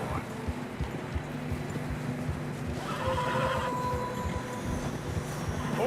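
Horses trudge through deep fresh snow in the Red Dead Redemption 2 video game, a steady crunching clip-clop of hooves with a whinny rising partway through, all fairly close over continuous outdoor ambience.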